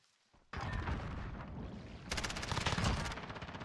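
Close gunfire in a video game gunfight: after a quiet half-second, a loud sustained burst of rapid shots starts abruptly, then a second, sharper automatic volley follows and rolls on to the end.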